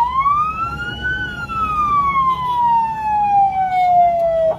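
A fire truck siren on duty wails in one long, loud sweep that rises and then slowly falls, close and continuous over low road rumble, passing a funeral procession on the street.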